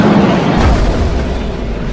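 A torpedo strikes a ship in a sci-fi space battle, giving a loud, sustained boom and rumble that fills the whole two seconds with heavy low-end energy and no speech.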